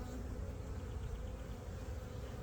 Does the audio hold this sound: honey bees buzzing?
yes